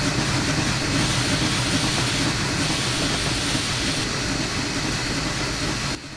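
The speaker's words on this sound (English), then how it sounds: "you can hear the steam sounds change as I give it more or less reverser" Big Boy steam locomotive hauling a maximum-tonnage train in Train Sim Classic, a steady, dense rush of steam and rumbling rail noise that holds even and loud throughout with no pauses.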